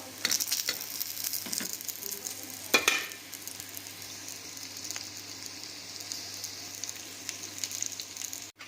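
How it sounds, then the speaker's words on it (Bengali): Fish roe paturi wrapped in pumpkin leaves fries in a covered pan, giving a soft, steady sizzle and crackle up close with a brief clatter of the lid. "ঢাকা দিয়ে আর একটু ভাজা করে নিচ্ছি"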